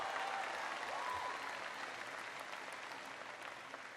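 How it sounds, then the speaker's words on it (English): A large crowd at a university speech applauds a proud mom and dad, sustained broadband clapping from a big hall that stays even and full throughout, slowly thinning near the end, with no voices on top. "Give mom and dad a big round of applause."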